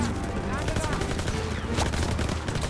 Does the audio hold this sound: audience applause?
no